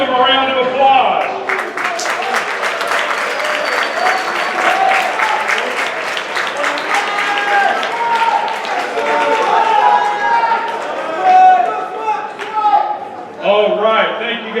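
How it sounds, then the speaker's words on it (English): Loud, sustained audience applause at a hypnosis show, dense clapping over a murmuring crowd with voices and cheers mixed in, tapering briefly near the end before a voice speaks. "A round of applause."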